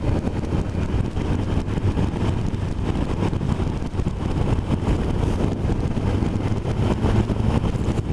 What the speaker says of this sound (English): they've got an amazingly good induction roar, which is actually built into the bikes to make them sound good